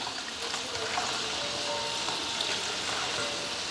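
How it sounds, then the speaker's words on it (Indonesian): Tempeh fries in hot oil with a steady, even sizzle that stays constant and close throughout, with no talking. "saya mau goreng tempe."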